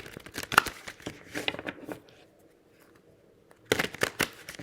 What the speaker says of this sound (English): give these a ruffle shuffle